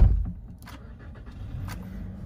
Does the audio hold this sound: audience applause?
no